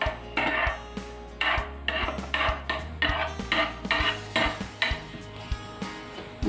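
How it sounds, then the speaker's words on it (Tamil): A spoon scrapes and clinks against a pan in a steady rhythm as almonds fry in hot ghee for a jaggery winter melon halwa, with close, repeated metallic taps and stirring and no talking. "நெய் சூடானதும் நம்ம வந்து பாதாம் பருப்பை நெய்யில் ஆட் பண்ணிக்கலாம்."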